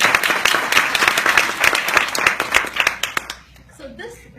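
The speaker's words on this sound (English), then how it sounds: "Could I ask you all to put your hands together as loud as you wish to celebrate" A graduation audience at a business school ceremony claps loudly and vigorously in dense overlapping hand claps, then the applause drops away sharply near the end as a voice begins speaking.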